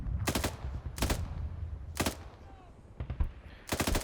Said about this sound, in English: I'm going to open fire on these guys that are up on the hill.